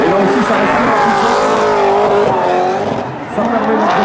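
A BMW M3 with a 5-litre V8 engine from the M5 drifts at a show, its engine roaring loud and close with wavering pitch while the tires squeal continuously throughout.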